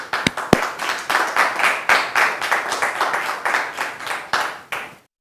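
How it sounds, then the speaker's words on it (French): Studio audience applause on a French television talk-show set, dense continuous clapping with sharp louder claps near the start, sustained for about five seconds before stopping abruptly. "C'est par ces applaudissements que nous entrons chez vous"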